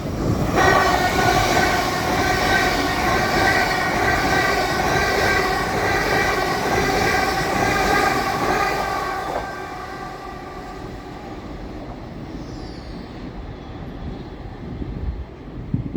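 A three-coach train rumbles steadily past at close range through Doncaster station for several seconds, then the noise drops away to quieter station ambience with a faint hiss.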